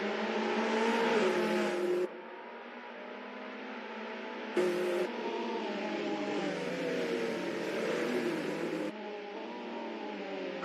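Several race cars in a virtual racing game roar off at a race start, their engines a dense, continuous drone of layered revving that shifts in pitch as the onboard sound cuts between cars.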